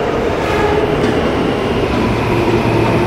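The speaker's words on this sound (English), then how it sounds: "This is a Brooklyn-bound G train." A Brooklyn-bound G subway train in Queens roars loudly and steadily from inside the car, its constant rumble and rattling filling the whole span with no break.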